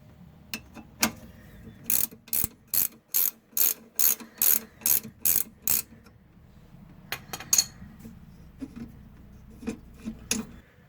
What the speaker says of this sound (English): so I can go ahead and use hand tools, not a big deal.